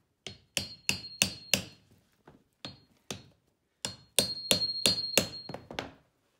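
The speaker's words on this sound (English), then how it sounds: "it pried that nail right out" A pry tool works a nail out of a wallpaper sample book in a series of sharp taps and scraping clicks, two bursts of quick metallic knocks separated by brief pauses, close and fairly loud.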